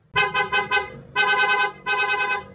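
A loud, bright multi-tone PIAA aftermarket car horn blares in three bursts, the first chopped into rapid stuttering toots, the next two held longer.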